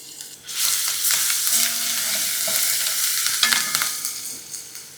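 Oil with cumin seeds and fine garlic paste is stirred in a pot for ridge gourd rice. A loud frying hiss starts suddenly and keeps going close by, with scraping stir sounds, before easing off near the end.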